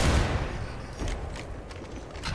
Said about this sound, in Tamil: வெடி குண்டு வெடி குண்டு வெடி